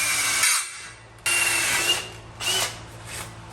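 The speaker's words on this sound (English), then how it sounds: "Let's go drill some holes" A power drill whirs in several close bursts, drilling holes in a Lexus frame, revving up and stopping between holes, with a brief pause before the longest run.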